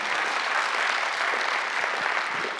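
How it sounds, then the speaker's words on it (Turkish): Applause from a school audience at a quiz competition, a dense steady burst of clapping that fills the whole moment without voices. "Arkadaşlarımıza kuvvetli bir moral alkışı rica ediyorum."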